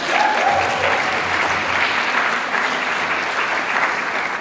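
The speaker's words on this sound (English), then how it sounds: "Give Cameron a round of applause." Dense, steady audience applause for a graduate at an Indigenous student graduation ceremony, continuous and fairly loud throughout with a brief voice heard near the start.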